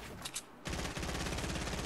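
Gunfire in Fortnite breaks out after a brief pause and turns into a rapid, steady automatic rattle, fairly faint and sounding at a distance.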